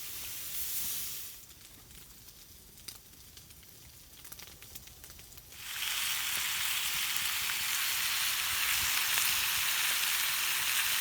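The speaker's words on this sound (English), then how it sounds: "I ended up putting mine in the skillet, but it had all the bacon grease in it" Food frying in a cast-iron skillet full of bacon grease at a rainy campsite, a brief sizzle that drops to quiet clatter, then a loud, steady crackling hiss that holds to the end.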